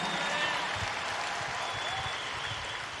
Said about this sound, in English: a round of applause for Marianne.